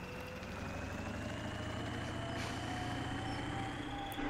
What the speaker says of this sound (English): who doesn't love the sound of a turbo and diesel?